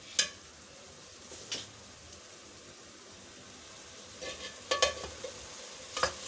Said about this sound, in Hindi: अब हम इसको इसी मसाले में अच्छी तरह भूनेंगे